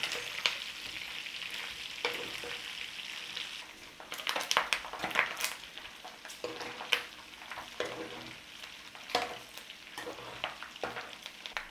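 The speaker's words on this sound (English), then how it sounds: "it's starting to really render out the fat now" Pork fat rendering in a pan, a steady crackling sizzle with sharp pops and bursts of spitting fat, close and moderately loud with no talking.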